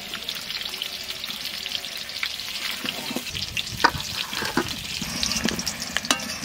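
Potatoes frying in hot oil give a steady crackling sizzle with sharp pops and occasional stirring scrapes, close and moderately loud, with no voices.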